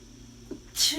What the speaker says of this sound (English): And I have to sneeze.